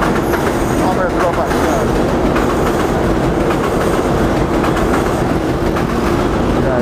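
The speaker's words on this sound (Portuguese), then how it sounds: "Olha o metrô" A metro train passes by, a loud, continuous rumble with faint rhythmic clatter of wheels on rails that stays steady throughout, with the sound of a busy outdoor setting around it.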